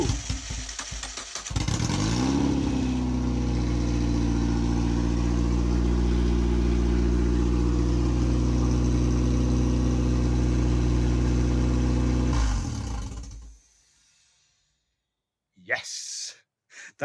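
MEV Exocet kit car engine catches on its first start, cranking briefly then settling into a loud, steady idle for about ten seconds before cutting off, followed by quiet and a brief voice.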